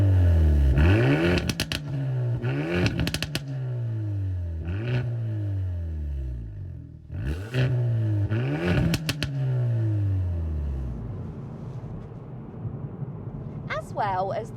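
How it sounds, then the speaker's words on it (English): A Hyundai i30N hatchback with its stock exhaust being revved repeatedly, several sharp rises and falling engine sweeps with crackles, loud and close, ending in a quieter idle. "There isn't many cars that sound this good from a stock exhaust."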